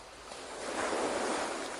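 Surf rolls onto the shoreline in a continuous broad wash, building gently into a fuller surge of breaking water, heard close and alone without any talk.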